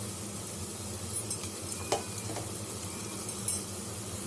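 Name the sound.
sautéing onions and green chillies for tomato rice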